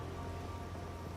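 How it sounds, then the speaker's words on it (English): Steady violet rain falls in the video game Path of Exile 2, a dense, even hiss with a low rumble beneath it that stays constant throughout with no voices. "This one is a violet rain, as opposed to, you know, the other types of rain."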